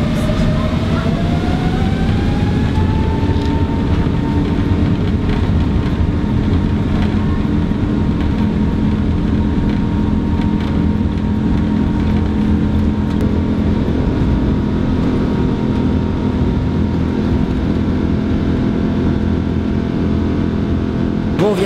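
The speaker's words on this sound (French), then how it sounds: "l'avion va décoller, on va démarrer dans quelques instants" Loud, steady jet engine roar inside an airliner cabin at Jeju airport, a rising whine sweeping upward early as the plane begins its takeoff, with a continuous low rumble throughout and no talk.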